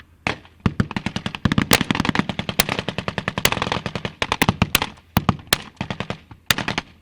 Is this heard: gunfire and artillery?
yes